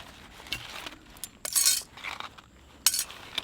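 Metal backpacking cutlery from a camping cook and fire kit clinks and rattles as it is handled, with several sharp bright chinks and scrapes close by and no talking.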